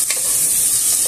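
Garlic and onion sizzle steadily in a frying pan, a loud continuous hiss with a brief stirring scrape near the start, no voices.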